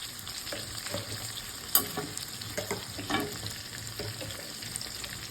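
Tomato paste and whole chillies hit a hot frying pan, giving a steady close sizzle with scattered spoon scrapes and light taps of stirring throughout, no talking.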